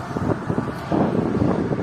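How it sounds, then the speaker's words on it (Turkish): Strong headwind buffets a cyclist riding a loaded touring bike along an open Turkish road, a continuous rough gusty rush with low rumbling microphone noise throughout, no voices. "rüzgar devamlı yola çıktığımdan beri karşımdan esiyor ve çok sert esiyor"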